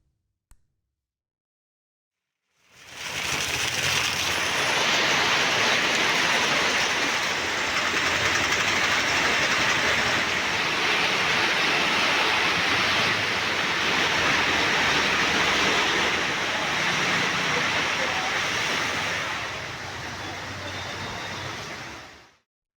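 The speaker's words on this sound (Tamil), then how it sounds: "காரைக்காலில் 5 மணி நேரத்திற்கும் மேலாக வெளுத்து வாங்கிய கனமழையால் சாலைகளில் தண்ணீர் பெருக்கெடுத்து ஓடியது" Floodwater from heavy rain lasting more than five hours rushes along roads in Karaikal. After a moment of silence, a loud, continuous roar of flowing water holds steady and close, with no voices.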